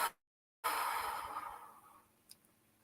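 A single slow, soft exhale during guided meditation, following a short silence, a breathy sigh that fades gradually over about a second and a half, close and quiet, with a faint small sound afterward.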